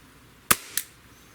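A Glock 17 Gen5 pistol fires a single sharp, loud shot, followed by a quick echo off the surroundings.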